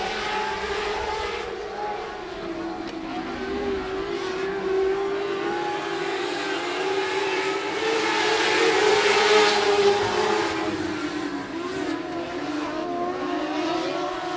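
Race cars lapping at 105 Speedway during a regular race program, a loud, steady engine roar sweeping past in waves, swelling toward the middle as the pack goes by.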